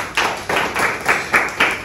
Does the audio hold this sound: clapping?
yes